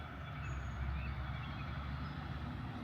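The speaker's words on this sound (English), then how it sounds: "it's the freaking garbage truck is back." Garbage truck rumbling nearby on the street, a steady loud engine drone with a faint high whine, continuous and alone throughout.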